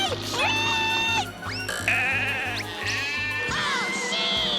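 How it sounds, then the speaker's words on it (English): Sheep bleating in a Woody Woodpecker cartoon, several wavering high bleats in quick succession over a rhythmic pulsing music and engine-like background, loud and close. "Woody! Sheep!"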